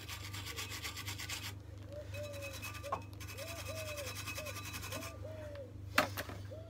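A front brake caliper on a Vauxhall Astra Mk4 being brushed clean: short scrubbing bristle strokes rasp close by under a steady background hum, with a few faint squeaks and a sharp knock near the end.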